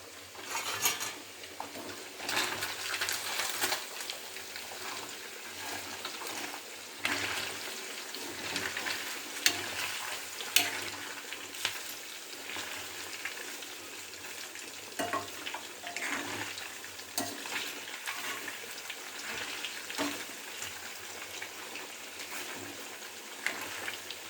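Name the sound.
fish deep frying in sunflower oil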